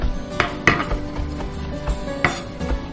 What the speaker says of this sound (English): And we'll give them a chop.